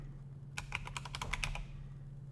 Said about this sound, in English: let me type this in again.